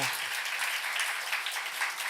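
A congregation at a church youth worship service claps together to reward a young participant, a brief burst of close, full applause lasting about two seconds with no talking.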